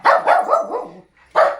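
A dog barks in a run of four quick, loud barks close by, then a short pause and one more bark, with no talking over it.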